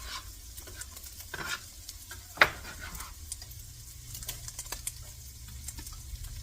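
Garlic and onion sauté in a pan for fideo, a soft continuous sizzle with scattered stirring scrapes and one sharp clink of a utensil against the pan.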